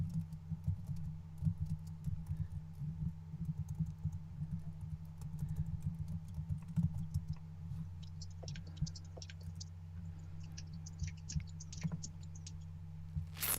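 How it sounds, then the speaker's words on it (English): Steady, rapid typing on a computer keyboard, close and fairly loud, with clicky keystrokes continuing throughout and a low hum underneath. "They said they can hear typing."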